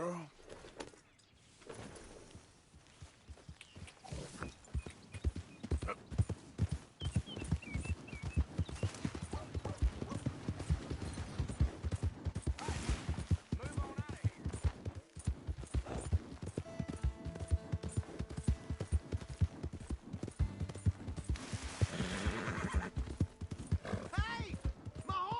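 Steady clip-clop of horse hooves with a horse's whinny in the video game Red Dead Redemption 2, loud and close, with voices at times.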